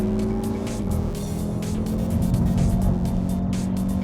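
A race car on a circuit accelerates hard out of a corner, its engine a loud, steady roar with layered harmonics holding across the whole stretch, close up and without any voices.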